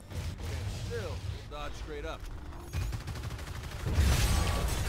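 Gunfire while shooting a monster in Evolve Stage 2, a chaotic game battle with bursts of shots, crashes and rumbling effects under steady excited talking.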